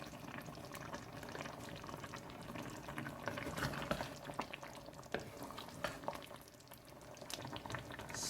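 Green chicken curry simmering in a pot, a steady bubbling and sizzling wash with occasional pops and clicks throughout, fairly close and moderately loud, no voices.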